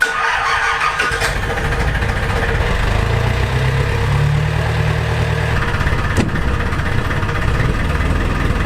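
A fishing boat engine turns over and settles into a steady idle, a loud low rumble that continues unbroken, with a brief clunk midway.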